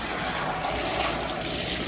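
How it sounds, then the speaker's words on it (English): Dirty well water runs steadily from a newly installed shower in a remodeled mobile home bathroom, a continuous broadband rush that fills the whole clip with no voices. "dirty well water coming out."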